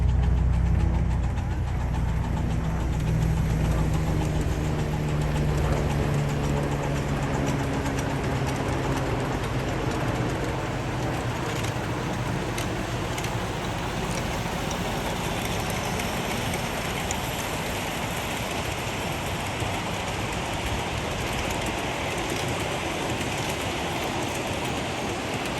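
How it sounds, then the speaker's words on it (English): Several 7.5-inch gauge miniature steam trains run past on a ride-on railroad at a Florida site, with a steady, dense rumble and clatter of wheels and working engines that continues unbroken for the whole stretch. "all of a sudden there's trains all over the place"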